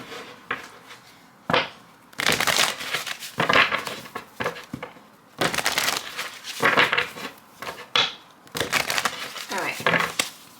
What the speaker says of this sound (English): let me just shuffle really quick